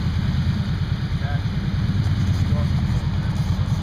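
Steady low engine idle from a vehicle stuck in a deep mud puddle with its exhaust just above the water, a continuous rumble that holds throughout with faint voices mixed in.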